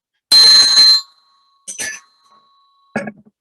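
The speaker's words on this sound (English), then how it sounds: "And it feels like I should ring the trolley bell." A trolley bell rings out clearly in three separate bursts, a long bright ring followed by two shorter ones, heard alone in a quiet room.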